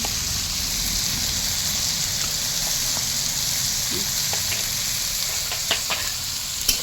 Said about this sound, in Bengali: পেঁয়াজটা এই যে ভাজা হয়ে গেছে